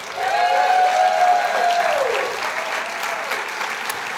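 A table of supporters at a Colorado IDD Awareness Day luncheon cheers and applauds, with a sustained high whoop or whistle over clapping that fades after a couple of seconds into lighter scattered applause in a large room.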